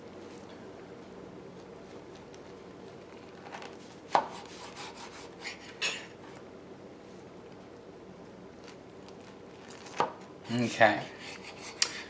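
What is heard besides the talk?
knife cutting a pineapple into four pieces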